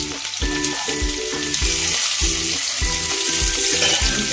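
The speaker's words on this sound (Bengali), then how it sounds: "ফুলকপিটা দিয়ে একটু ভাজা ভাজা করবো" Cauliflower pieces frying in oil in a pan for a Bengali vegetable bhuna, heard close up as a continuous sizzle broken by a regular rhythm of stirring scrapes and stirs.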